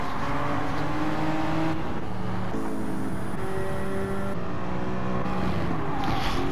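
A racing pickup truck in a Challenge Series race runs loud and close, its engine holding steady tones, then shifting pitch through gear changes and revs across the stretch, with no talk over it.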